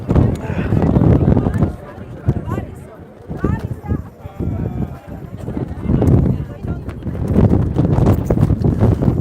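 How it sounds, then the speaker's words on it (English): Cold, strong gusts buffet the microphone at an outdoor Minnesota Stands with Ukraine rally, producing loud low rumbling bursts that rise and fall across the clip, with people talking in between. "There's wind and there's cold wind, and this is some cold wind."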